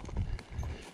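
Horse hooves clip-clopping on the ground, a couple of muffled steps at a walking pace, fairly quiet and close.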